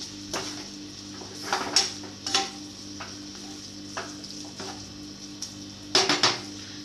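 Mushroom cream sauce stirred in a pan, with a spoon scraping and clinking against the pan in several irregular strokes over a faint steady background hum; no talking.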